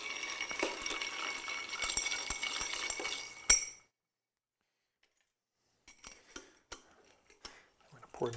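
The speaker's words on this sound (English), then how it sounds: "we stir it rather than shake it" A clear cocktail is stirred with a bar spoon in a mixing glass, a rapid run of close, light glassy clinks and scrapes for several seconds, then a pause and a few scattered taps.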